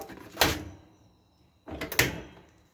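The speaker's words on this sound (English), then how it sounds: "That's your door lock." The door lock on a Kenmore dryer is worked by hand: two sharp close clacks with a pause between them, the second followed by a brief rattle.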